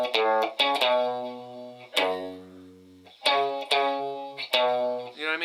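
Electric guitar phrase from a song played mechanically with no slides or vibrato, a few clean plucked notes and held chords sounding one after another, each ringing out evenly and decaying.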